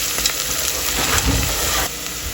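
Onions frying in a pan until light brown, a close, loud, continuous sizzle with a brief stirring scrape near the middle. No voices.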